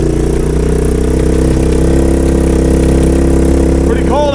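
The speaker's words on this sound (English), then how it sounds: "We're on the golf cart. We're taking it for a ride. Seems to be running okay." A golf cart fitted with a swapped-in three-wheeler engine runs steadily and loudly at close range, a continuous low mechanical drone with a clattery edge throughout.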